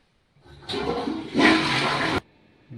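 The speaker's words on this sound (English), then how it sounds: "Right, flush the potty." A household toilet flushes close by, a rushing surge of water that swells louder midway, then cuts off abruptly after about two seconds.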